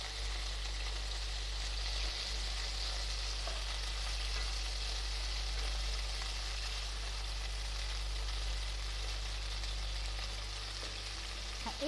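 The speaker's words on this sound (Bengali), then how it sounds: "এই তেলের মধ্যেই আমি পেস্ট মশলাটি আমি কষিয়ে নেব।" Spice paste fries in hot oil for a chicken curry, a steady close sizzle and crackle running throughout with faint stirring, no voices.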